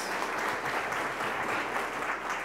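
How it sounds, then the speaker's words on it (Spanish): Steady applause from a lecture audience, a dense even wash of many hands clapping at moderate level for a few seconds, with no speech over it. "un gran aplauso para Teo y le dejo con ustedes."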